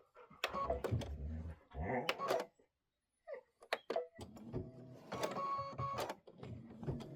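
An embroidery machine stitches a design in gold thread, its rapid mechanical needle chatter running in bursts with a short pause in the middle, fairly faint and close.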